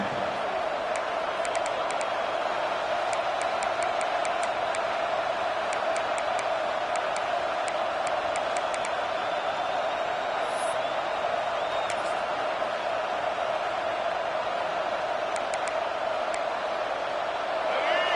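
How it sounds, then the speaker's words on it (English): A large football stadium crowd at an LSU game roars steadily and continuously, a dense wash of many voices with a few faint whistles and shouts rising above it. "this crowd is fired up. Listen to this noise here."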